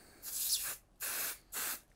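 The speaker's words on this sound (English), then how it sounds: "give that a spray" Adhesive basting spray for embroidery patch making hisses from an aerosol can in three short bursts, the first longest, the next two brief and evenly spaced, close and fairly soft.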